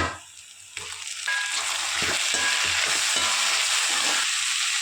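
Tomatoes dropped into a pan of frying onions and ginger-garlic paste set off a sudden loud sizzle, which settles into a strong, steady crackling hiss close up for several seconds, with no voices.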